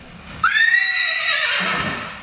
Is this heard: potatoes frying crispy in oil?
no